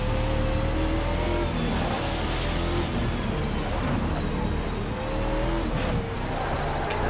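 A V8 race car roars around the Nordschleife in Automobilista 2, its engine note a dense, loud, continuous rumble with a few throttle swells and shifts, close and unbroken by speech.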